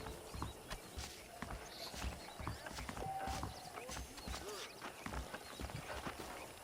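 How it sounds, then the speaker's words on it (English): Horse hooves clip-clop at a walking pace in the Western video game Red Dead Redemption, a steady rhythm of moderate loudness with faint background talk and occasional whinnies. "The horses are saddled up over here."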